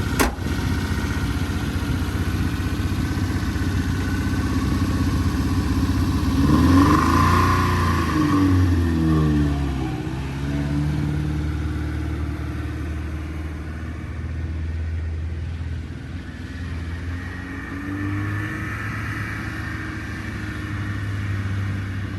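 A 1971 Honda 1300 Coupe 9S, running again after seven years with a 4-speed, rumbles steadily as it drives around a parking lot, its engine note rising and falling mid-way with revs before settling into a smooth, moderately loud drone.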